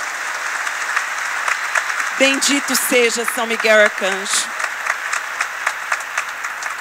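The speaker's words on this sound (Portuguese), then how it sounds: "eu queria pedir uma salva de palmas para São Miguel Arcanjo" A congregation applauds in honor of Saint Michael the Archangel at a religious gathering; steady clapping runs throughout while someone speaks briefly over it in the middle.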